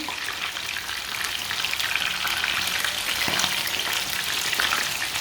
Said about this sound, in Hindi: अब ये वाली साइड से भी 2 मिनट तक फ्राई होने देते हैं